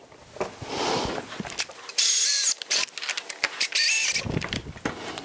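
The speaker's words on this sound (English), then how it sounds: "just drill the other 2 holes" A power drill whirs in several short, loud bursts with brief pauses between, biting into metal up close while drilling holes for stiffeners.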